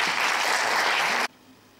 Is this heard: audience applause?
yes